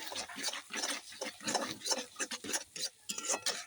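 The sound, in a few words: stirring eggs in potato curry (alur dom)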